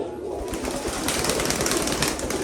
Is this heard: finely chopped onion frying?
no